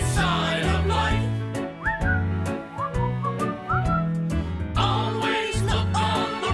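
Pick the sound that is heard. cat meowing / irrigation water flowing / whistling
whistling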